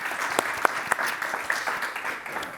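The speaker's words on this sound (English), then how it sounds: "let's give them a round of applause for making this happen and making it look good" An audience at a live event on beer, wine and climate change gives a short round of applause, individual claps standing out crisply within a steady moderate patter that tapers off toward the end.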